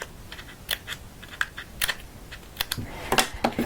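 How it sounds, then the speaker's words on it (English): Scissors snip little paper slats for Graphic 45 paper slippers, a quick run of light, crisp cuts close by with uneven spacing and no talking. "So I'm going to go ahead and cut some more little slats"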